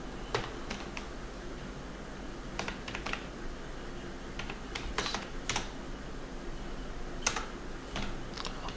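Someone types on a computer keyboard while working in MS Word, a steady run of close, crisp keystrokes with irregular rhythm and a few louder strikes, heard alone without talking.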